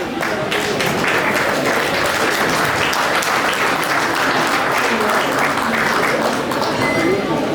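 Dense, steady applause from an audience at the Ndwet To'oh cultural festival of the Foto community, loud and continuous throughout with a crowd murmur mixed in.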